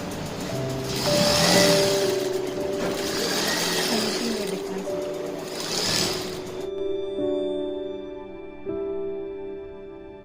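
An industrial sewing machine stitches jute bags in three loud whirring bursts, running close up, then stops and leaves a quieter electrical hum.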